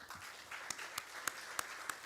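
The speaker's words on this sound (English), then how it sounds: "let's give him a round of applause" Audience applause at a T+1 settlement cycle transition ceremony, a steady wash of clapping from a crowd with a few sharper individual claps standing out.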